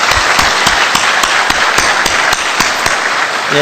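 Applause from a church congregation fills the space, dense and steady, with a few sharper claps standing out at a regular beat.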